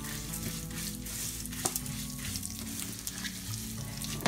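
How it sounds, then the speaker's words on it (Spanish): Vermicelli noodles frying in a little oil over low heat for Mexican sopa de fideo, a steady close sizzle with occasional stirring scrapes and clicks. "Con un poco de aceite, agregas el fideo. Y lo mueves hasta que quede doradito"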